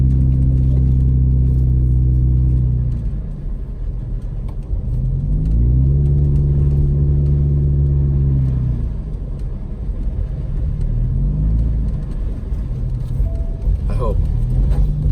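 A car engine with a loud aftermarket muffler accelerates and idles back down in repeated surges while driving through snow around Big Bear, its deep rumble steady and close, with someone talking over it.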